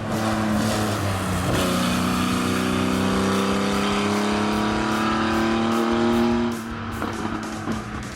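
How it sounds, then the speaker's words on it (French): A Porsche 935 race car screams past on track ahead of a Volkswagen, loud engine notes climbing steadily through the gears before dropping away as the cars pass. "La Porsche 935 de Stéphane Petré devance la Volkswagen de Bernard Cornet"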